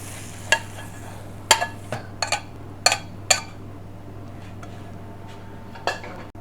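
Saag paneer curry is dished up in a takeaway kitchen: scattered clinks and scrapes of metal utensils against pans, spaced out over a low steady kitchen hum with a faint sizzle.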